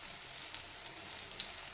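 Colocasia leaf vadis frying in hot oil make a constant fine crackling sizzle with scattered pops and spits, close and moderately quiet, with no voices.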